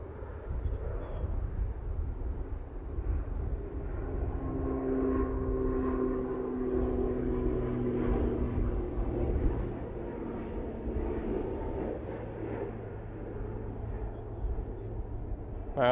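An Emirates airliner approaching to land at Manchester Airport, heard as a steady low engine drone with faint whining tones that swells slightly mid-way and holds throughout.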